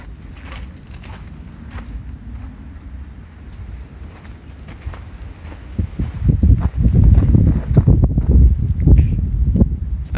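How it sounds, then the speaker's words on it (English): Wind blows outdoors after a snowstorm, buffeting the microphone as a low rumble that grows into louder, gusty blasts partway through. "I hear wind."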